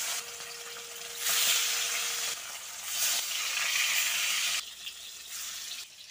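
Rohu fish pieces fry in hot oil in a kadai, with a loud, bright sizzle that swells in bursts as the pieces go in and then settles into a steady crackle with no talk.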